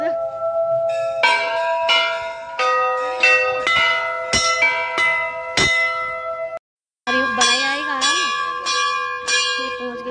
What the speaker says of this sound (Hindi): मैं भी घंटी बजाती हूँ।